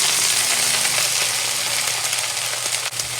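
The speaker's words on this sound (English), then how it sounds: "Now we stir fry it" Mustard greens stir-frying with garlic in a hot pan, producing a loud, dense sizzle that crackles steadily throughout, with a brief stirring knock near the end.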